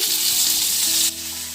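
Cashews and chopped onion frying in a pan for flattened-rice pulao, a loud steady sizzle that drops slightly in intensity partway through, with no talk.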